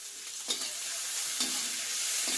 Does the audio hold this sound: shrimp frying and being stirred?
yes